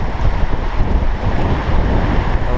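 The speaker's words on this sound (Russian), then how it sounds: "Смотрите, волны какие классные" Rough river waves on the Irkut during a rafting trip in inflatable boats: loud, constant rushing water and churning surf, heavily buffeted by wind noise, with no talking.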